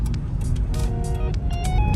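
Cars in congested traffic on a road toward San Leonardo, Nueva Ecija, with a steady engine rumble and passing vehicle noise, plus faint higher whines and squeaks drifting through the two seconds.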